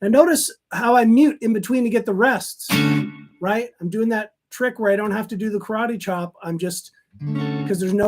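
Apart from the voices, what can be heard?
No everyday noises stand out.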